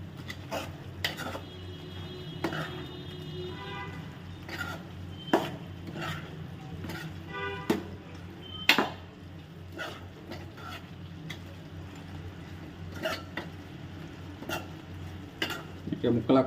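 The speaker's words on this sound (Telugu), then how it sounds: "నీట్గా కలగబెట్టుకోవాలి" Chicken gravy curry being stirred in a cooking pan, with repeated scrapes and light clinks of a utensil against the metal over a soft, steady simmer; no talking.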